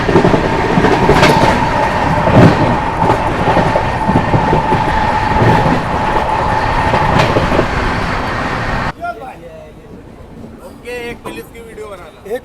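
The Nandan Kanan Express rumbles loudly past close by while overtaking, a sustained rush with rhythmic wheel clatter that cuts off abruptly to a much quieter background near the end.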